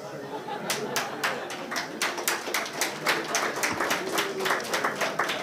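An audience at a political lecture on world revolution breaks into loud, sustained applause, dense rapid clapping filling the room with a faint murmur of voices underneath.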